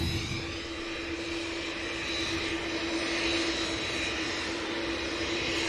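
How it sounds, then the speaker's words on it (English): Gulf Air airliner departing, heard as a steady distant engine drone with a sustained mid-pitched hum running through it, fairly faint and unbroken by speech. "Gulf Air heads out."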